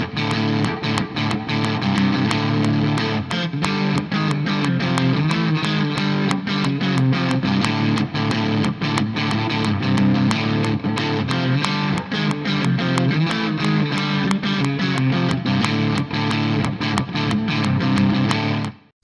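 Guitar playing a repeating rhythmic grouping of 4 plus 7 plus 7 plus 7, a steady, dense, driving pattern of sharply accented strums at constant high loudness, continuous for about nineteen seconds without talk.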